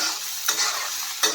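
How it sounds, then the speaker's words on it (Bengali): Bitter gourd fries in a pan with a little oil and cumin, a close, bright sizzle broken by two or three quick scraping stirs of a spatula; no talking. "উচ্ছে ভাজাটা প্রায় হয়ে যাচ্ছে।"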